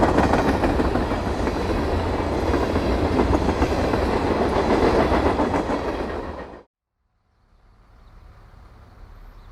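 Freight train rolling through a rock cut near Richland in winter, a loud continuous rumble with clattering wheels that cuts off suddenly, followed by quieter ambient noise.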